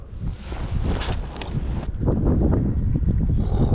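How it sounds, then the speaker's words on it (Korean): Strong sea wind buffets the microphone during light-game fishing from the shore on Korea's Namhae coast, a loud, continuous rumbling roar that swells and stays heavy throughout. "와 바람이 많이 분다"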